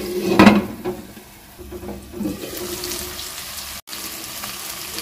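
Bengali masala with poppy seed paste fries in a pan for a potol chingri dish. A steady, close sizzle opens with a louder burst and is broken by a brief silence near the end.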